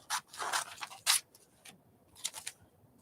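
Scissors snip through a glossy magazine page in a handful of quick, crisp cuts with short pauses between them, close and fairly quiet.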